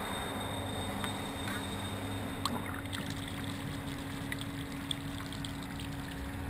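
A steady mechanical hum and watery rushing run continuously, with occasional small splashes and clicks, close by and without talk.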